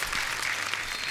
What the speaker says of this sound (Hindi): एक बार सुनिधि, दिव्या जी और संजय जी के लिए जोरदार तालियां हो जाए।